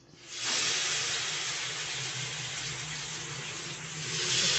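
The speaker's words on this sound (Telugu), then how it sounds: "ఇప్పుడు అదే ఆయిల్లో మిగతా ఫిష్ ముక్కలన్నీ వేసేసుకోండి." Pieces of fish dropped into hot oil for a spicy Indian fish fry burst into a loud, steady hiss that swells suddenly and then holds, close and continuous with no talking.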